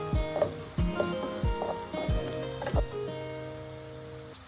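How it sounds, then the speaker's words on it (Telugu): Small-cut carrots and other vegetables frying in a little oil, a soft sizzle broken by repeated sharp clinks and taps of a spoon against the pan, roughly half a dozen strikes, fairly quiet and near. "వీటన్నింటినీ కొంచెం ఆయిల్లో ఫ్రై చేసుకోవాలండి"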